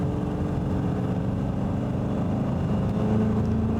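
A classic Aston Martin V8 bellows under throttle on a road test after a new fuel pump is fitted, a deep, loud, continuous engine roar close to the listener with no talking.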